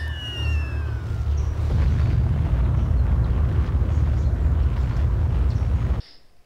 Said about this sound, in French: en vous balançant une bombe nucléaire sur la ville